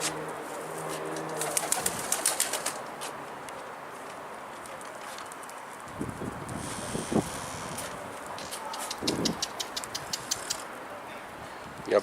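Domestic pigeons coo softly on a rooftop while occasional wing flaps and rattling bursts break in, with faint background noise and brief human voices nearby.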